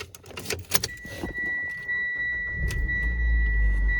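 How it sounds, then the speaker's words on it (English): A Mitsubishi Lancer starts up after strut bearing replacement: keys jingle briefly, the starter cranks, then the engine catches and settles into a steady, close idle. "Now, let's get this engine started for the power steering."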